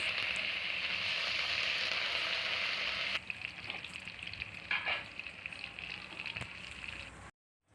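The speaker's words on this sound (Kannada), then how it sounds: "ಹಸಿಮೆಣಸಿನ್ಕಾಯಿ, ಒಣಮೆಣಸಿನ್ಕಾಯಿ, ಕರಿಬೇವು ಇವೆಲ್ಲ ಹಾಕ್ಕೊಂಡು ಚೆನ್ನಾಗಿ ಮತ್ತೆ ಎಣ್ಣೆಯಲ್ಲಿ ಬಾಡಿಸ್ಕೊಳ್ಳೋಣ" Green chilies, dry chilies and curry leaves sizzle steadily in hot oil, a loud dense crackle that drops a little partway through, with occasional stirring scrapes and no talk.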